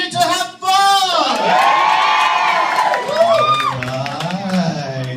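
A lively crowd at a live event shouting, whooping and cheering together, loud and close, with many overlapping voices rising and falling, and faint clapping beneath.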